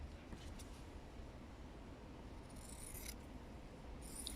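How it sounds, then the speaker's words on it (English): Fabric scissors snipping through fabric to cut out bunting pieces, a soft steady rasp with a few sharper crisp cuts near the end, close and fairly quiet. "I've got these fabric scissors,"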